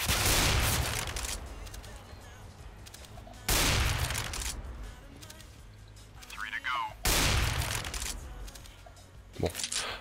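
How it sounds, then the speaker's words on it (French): Desert Eagle pistol shots in Counter-Strike: Global Offensive: three loud, heavy bangs roughly three and a half seconds apart, each ringing out into a long decay, with a fainter sharp report near the end. "le Deagle, alors voilà. Là je suis à la vitesse de tir maximum"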